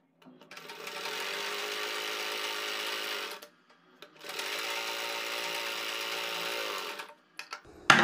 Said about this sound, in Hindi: हम अपनी दोनों पट्टियों के बीच सेंटर में एक सिलाई लगाएंगे